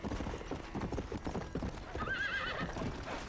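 A horse in the Red Dead Redemption video game gallops with a fast rhythmic clip-clop of hooves, then lets out a loud, wavering neigh partway through, with no talk over it.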